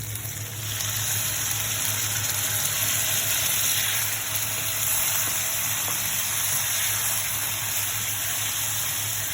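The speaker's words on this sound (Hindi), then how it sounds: "मैं यहाँ आधा गिलास पानी डालूँगी।" Half a glass of water poured into eggplant masala cooking in a pan, a steady rushing gush that fills the whole stretch over a constant kitchen hum and light sizzle.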